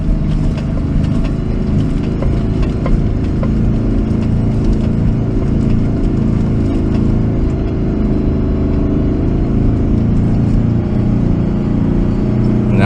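A 4WD engine holds a constant throttle while driving through soft sand on Fraser Island, a loud, steady, low droning roar with constant rumble and no breaks.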